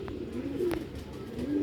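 Pigeons at a rooftop loft coo softly and repeatedly, low rolling calls recurring through the clip over steady background noise, with no talking.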